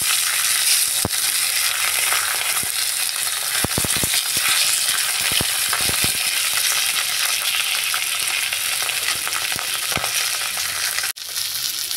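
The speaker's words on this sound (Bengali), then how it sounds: "মাছগুলা এক সাইড ভাজা হয়ে গেছে, একবার আমি উল্টে দিয়েছিলাম, এখন আরেকবার উল্টে দিচ্ছি।" Oil sizzles steadily and loudly as rohu fish fries in a pan, with occasional sharp clicks and scrapes of a utensil turning the fish; no voices.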